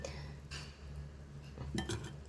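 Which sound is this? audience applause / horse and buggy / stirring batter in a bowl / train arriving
stirring batter in a bowl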